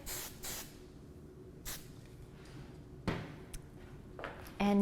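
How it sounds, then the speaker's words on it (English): Several short bursts of hairspray from an aerosol can during hair styling, close and hissing, separated by quiet pauses, with a brief clatter at the end. "final spraying."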